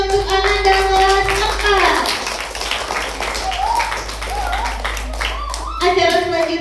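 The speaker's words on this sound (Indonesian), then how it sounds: "Sekali lagi tepuk tangannya untuk Ananda kelas" Schoolchildren from grade 4 get a round of clapping at a Maulid Nabi celebration held at an elementary school. The dense applause fills the middle of the clip, with a voice speaking over the room just before and after it.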